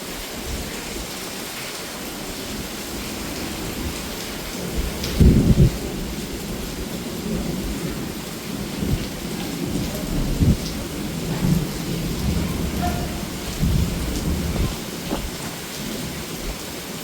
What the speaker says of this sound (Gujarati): તો અડધો કલાક મસ્ત વરસાદ પડ્યો અને હજી થોડો ધીમો ધીમો ચાલે.